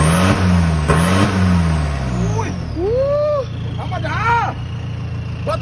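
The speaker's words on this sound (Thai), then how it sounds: "โชว์หน่อยโชว์หน่ อ ยเครื่องเหมือนจะพังจริงเลยพี่" A modified Ford pickup engine revs hard up close, rising and falling in pitch through several bursts, with people talking over it.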